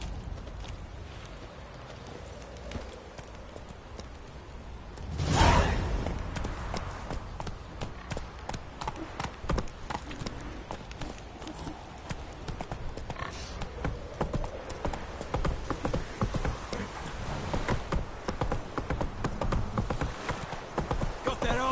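Horse hooves clip-clopping in the Witcher video game, a steady run of rhythmic hoofbeats continuing throughout, with a louder impact early on and a faint whinny, while character voices talk over it.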